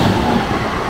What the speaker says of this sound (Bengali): তার পাশেই চলছে আমাদের দুন এক্সপ্রেস